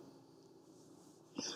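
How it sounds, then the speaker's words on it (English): A single sneeze bursts out near the end, loud and close, rising suddenly over a low steady background hum. "Oh, I need a sneeze."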